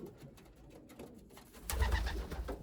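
A racing pigeon cock coos toward a hen during breeding season, soft low rolling coos that swell louder in the second half, heard close with no talking.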